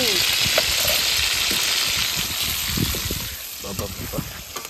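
Tomato chicken curry frying in hot oil, a steady bright sizzle throughout with soft stirring clicks and scrapes of a spoon in the pan, and a voice speaking faintly underneath.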